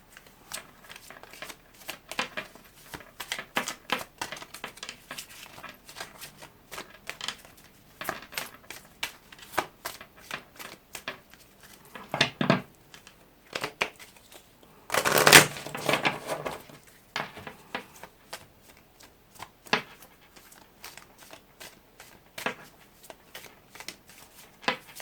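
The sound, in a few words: shuffling a deck of cards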